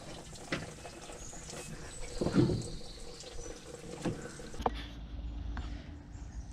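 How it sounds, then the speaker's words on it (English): Water dripping and trickling off pressure-washed equipment that had been leaking hydraulic fluid, with scattered irregular drips and splashes over a low steady background hiss, close by and moderately faint. "Alright, that's all just water dripping."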